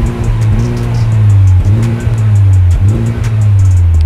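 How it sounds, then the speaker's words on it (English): A Honda Civic Type R's exhaust rumbles steadily while the engine is revved in repeated swells, loud and close, with a deep droning tone throughout. "the Plus R mode doesn't do anything with the exhaust, and it's quite weak, so let's listen to it."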